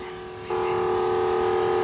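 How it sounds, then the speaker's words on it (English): A Delavan 10 GPM 12V bypass pump on a clear block switches on and keeps running with a steady electric motor hum and tonal whine. It is close and constant after a sudden step up in level. "it's a Delavan 10 GPM pump, and we got it on the clear block, and it's a bypass pump."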